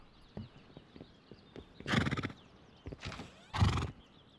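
Two loud whinnying neighs from a horse in the Rust console game, with soft hoof clip-clops in between and no talking.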